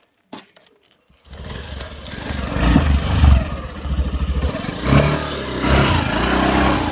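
A Honda Activa scooter engine starts after a few faint clicks, then settles into a loud, close, steady idle with slight revving swells.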